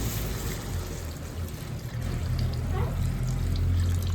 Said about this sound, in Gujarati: હવે આપણે નાખીશું થોડું પાણી